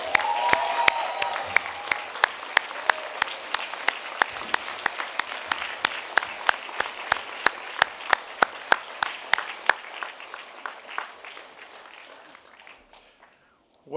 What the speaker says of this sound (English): could you join me in a huge round of applause for your family and friends and faculty?